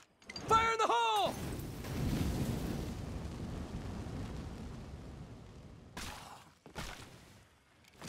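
An explosive detonates in the State of Decay zombie survival game, a loud burst followed by a long rumbling, crackling tail that fades over several seconds, with a couple of sharp impacts near the end.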